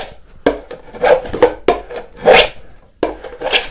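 A hand tool blade held skewed and pushed across the grain of a wooden box clamped in a vise, giving repeated rasping, scraping strokes in uneven bursts, close and fairly loud.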